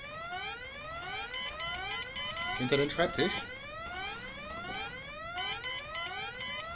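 In the video game Goodbye Deponia, an alarm siren wails in repeated rising electronic sweeps that carry on steadily under a voice, with a short burst of clatter partway through.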